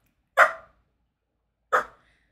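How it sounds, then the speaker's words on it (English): A pet dog named Prancer barks twice, two short, sharp, fairly close barks separated by over a second of silence. "Sorry, that's my dog, as you know."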